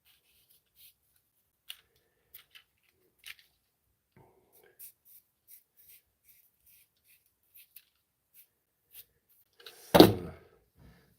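Small cutting snips and taps on a Pirate Bay build, sparse quiet clicks scattered across the stretch, ending with one louder thunk and brief rustle, no talking.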